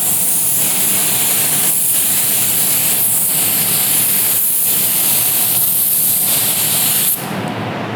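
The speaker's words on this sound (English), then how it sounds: "spray the first one with a full wet coat" A spray gun lays down a full wet coat of clear coat, giving a loud, steady, close hiss that runs almost unbroken with slight pulses as the gun sweeps, then cuts off near the end.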